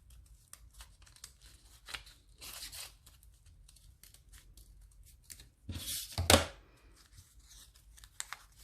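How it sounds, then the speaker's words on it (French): Scissors snip a paper petal shape for a five-petal origami flower in short, quiet rustling cuts and crinkles, with a louder burst of paper handling near the end. "Et on va venir découper au niveau de la forme."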